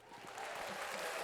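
A short burst of clapping and applause, a sound effect that swells after a brief start and holds as a dense crackle for about a second.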